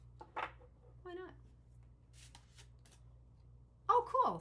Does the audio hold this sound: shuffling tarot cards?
yes